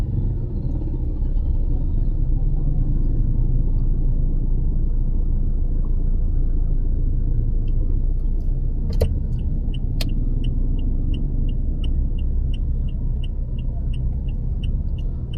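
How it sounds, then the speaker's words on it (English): Steady street traffic in Angeles City near Fields Avenue: a continuous low rumble of passing cars and motors, loud and unbroken throughout, with a few sharp clicks and a faint repeating high chirp near the end. "also traffic. Better walk here."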